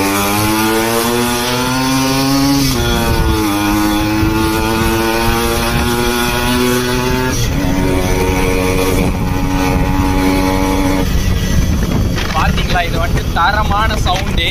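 A Yamaha RX 100 two-stroke motorcycle engine runs loud and close, its note rising and falling in a few revving bursts across the clip.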